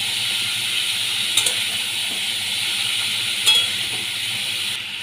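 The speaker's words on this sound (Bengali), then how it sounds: "এবার আমি চাল কুমড়োগুলোকে তেলের মধ্যে দিয়ে দেব।" Ash gourd pieces sizzle steadily in hot oil over a continuous broad frying hiss, with a couple of brief stirring clatters partway through; no one speaks.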